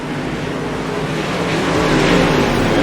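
A super late model dirt race car in iRacing at Volusia roars steadily close by, its engine holding a loud, continuous snarl that swells slightly under acceleration, with no talking.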